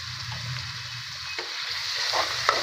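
Red chili going into a sizzling chana dal tadka in a kadhai, a soft steady hiss of frying oil with faint stirring scrapes and a few small crackles, fairly quiet and close.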